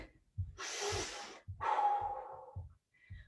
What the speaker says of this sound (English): Grab your breath. 2 more big breaths.